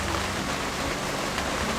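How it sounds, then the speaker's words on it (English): Steady rain falling outside in Sri Lanka, heard from a shower area, a continuous even hiss of drops at moderate level with no pauses or voices. "You can hear it, it's raining."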